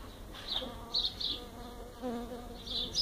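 Stingless bees buzz around their hive box as they fly in and out, with several close, brief passes over a soft steady insect hum.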